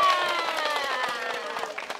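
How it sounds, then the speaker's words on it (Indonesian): Scattered clapping from a kindergarten stage audience, loose and uneven, mixed with overlapping voices. "Tepuk tangan dulu buat kita semua"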